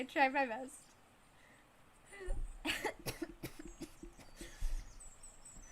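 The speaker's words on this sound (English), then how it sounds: "You're making me cough." Several sharp coughing bursts in a row, fairly close, mixed with laughter and a little talking, after a quieter start.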